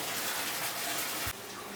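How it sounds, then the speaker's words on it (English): Two water lines gush steadily into a 4,500 gallon DIY aquarium, a loud, continuous rushing pour that drops slightly in level near the end. "2 water lines back in there because it takes forever to drain or fill up"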